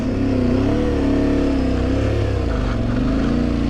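An Aprilia Tuareg 660 motorcycle engine revs loudly and continuously up close, its pitch wavering as the rear wheel spins on a muddy trail.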